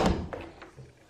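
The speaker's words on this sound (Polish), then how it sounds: "Się dobija do drzwi, sprawdźmy kto." Knocking on a door: a few separate dull knocks spaced roughly a third of a second apart, fairly near and moderately loud, fading quickly with no voices.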